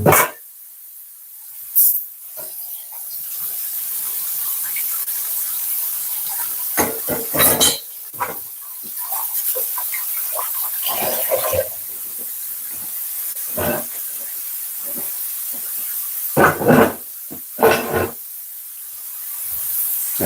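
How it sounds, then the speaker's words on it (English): Rice rinsed in a pot under a running kitchen tap gives a steady, close hiss of flowing water, broken by intermittent clinks, knocks and splashes as the grains are stirred and drained. "I have some rice here. Just gonna wash them off."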